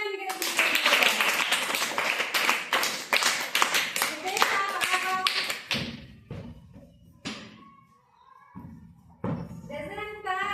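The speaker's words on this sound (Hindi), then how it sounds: "तालियां बजाएं इनके लिए।" Schoolchildren in a Hindi-language classroom clap for a classmate, a loud, dense burst of many hands lasting several seconds, then tapering into a few scattered claps and thumps as a voice speaks.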